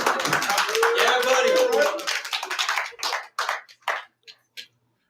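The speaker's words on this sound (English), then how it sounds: "hear those people clapping" A crowd applauds after a marriage proposal: dense, loud clapping with some voices fades into a few scattered, separate claps before falling silent.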